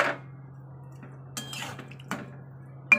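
A lid goes onto a pan holding a little water in a home kitchen, the gas still unlit: a few light metallic clatters, spaced apart, over a steady low hum.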